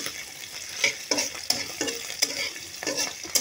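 Shrimp frying in a pan with a steady sizzle, broken by repeated scraping stirs at an irregular rhythm, close and fairly clear with no talking.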